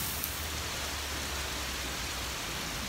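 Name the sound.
rain falling outdoors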